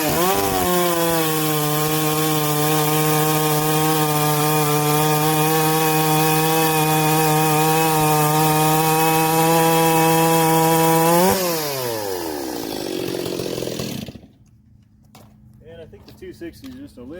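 Ported Stihl 260 Pro chainsaw running a little rich, holding a loud steady high rev for about eleven seconds, then winding down to a lower idle and cutting out, with faint noise after.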